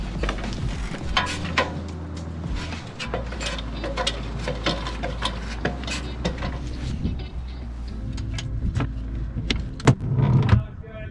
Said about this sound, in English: I'm gonna go winch the board up.